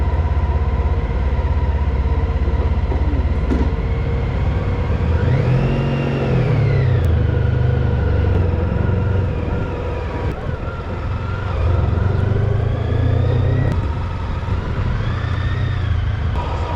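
A motorcycle rides along an Illinois road, a continuous loud engine drone with wind rush, rising and falling in pitch as it shifts and accelerates.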